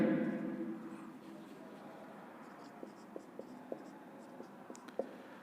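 Chalk or marker writing names on a classroom board during a geography lesson, a series of short scratchy taps and strokes, faint and close, with a low room hum underneath.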